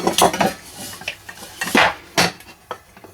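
Old German military metal canteens and a cup clink and knock together as they are handled, giving several sharp, close metallic clatters in an irregular rhythm with brief pauses between them.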